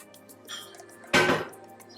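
Glass bowls knock together in a kitchen while ceviche is prepared, a soft clink followed by a single sharper clatter, close and with no talking over it.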